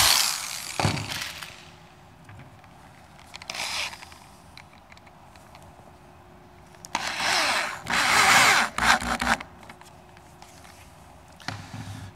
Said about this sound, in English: I want my drill bit to go down to the center of that piece of wood.